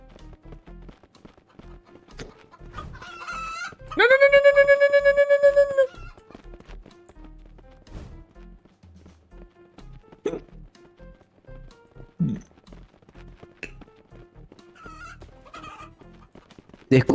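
Chickens in the video game Who's Who cluck and squawk in a loud sustained burst, then scattered clip-clop and clucking sounds continue with a player talking now and then.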